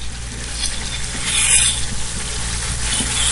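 Chicken karahi with ginger and whole green chilies is mixed in a hot pan, with a loud, dense sizzle and faint scraping from the stirring, continuous and close.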